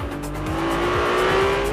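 A Ferrari 296 GTB road car with a 2.9-litre V6 hybrid engine gives a loud, sustained engine note that climbs slowly in pitch as it accelerates, heard close and alone.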